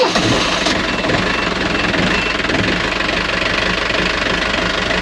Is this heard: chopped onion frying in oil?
no